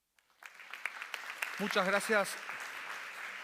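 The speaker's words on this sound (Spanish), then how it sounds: "todo el mundo te ha aplaudido" Scattered, fairly light applause from a medical symposium audience after a vascular surgery talk, claps pattering steadily as someone speaks briefly over them.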